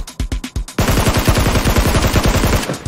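Rapid automatic gunfire in a battle royale shooter, a few spaced shots followed by a long, loud, steady burst of close-range fire with no talking.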